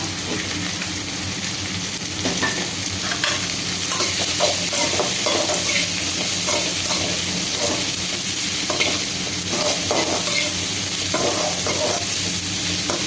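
Cabbage and mung beans sauté in a pan with a loud, continuous sizzle, broken by repeated scraping and stirring strokes throughout.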